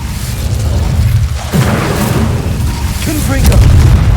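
A fire spell, Incendio, is cast in Hogwarts Legacy to burn devil's snare guarding a chest. It sounds as a loud, continuous booming rush of flame lasting several seconds, with a brief voice cutting in over it.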